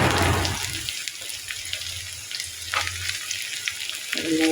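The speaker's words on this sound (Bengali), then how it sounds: "রসুনগুলো দিয়ে একটু ভালোভাবে নেড়ে করে ভেজে নিয়েছি" Whole local garlic cloves fry in hot oil in a pan while being stirred, a steady close sizzle with scraping bursts at the start and end.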